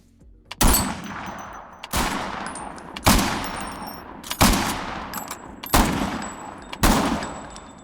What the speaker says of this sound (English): you can quickly and easily record a shot and the shell drop with the desired delay